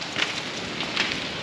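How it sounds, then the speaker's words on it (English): Rain falls near a glacier ice cave in Alaska, a soft, steady patter with a few brighter drips and light wind noise, fairly faint and without talk. "It is raining"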